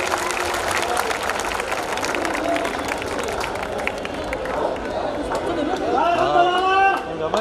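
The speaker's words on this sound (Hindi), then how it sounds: "एक बार जोरदार तालियां इस युवा कवि के लिए" Crowd at a kavi sammelan poetry gathering in Banswara applauding a young poet, a dense, steady wash of clapping and cheering with crowd chatter, swelling slightly near the end.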